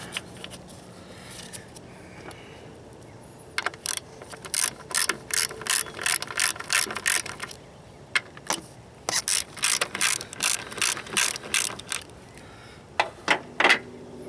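A ratchet wrench removing the bolts from a Ford Taurus front strut, giving close, loud bursts of rapid ratcheting clicks in several runs with short pauses between them and no talk.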